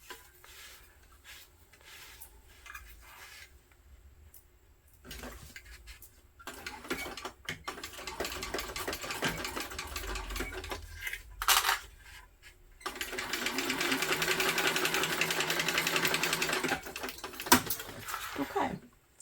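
A sewing machine stitching a travel bag runs in short bursts and then a longer steady run near the end, with quiet handling sounds and a voice in the pauses.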